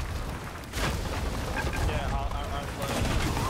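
Heavy ship cannons boom in a pirate ship battle between sloops and galleons in Sea of Thieves, loud rumbling blasts mixed with chaotic noise while a player talks over them.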